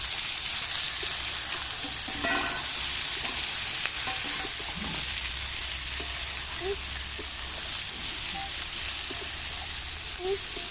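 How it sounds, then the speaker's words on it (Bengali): Onions frying in oil for a Bengali-style duck curry cooked at a picnic, a steady close hiss and sizzle with occasional stirring scrapes and faint voices in the background. "পেঁয়াজটাকে ভালো করে লাল করে ভেজে নেব।"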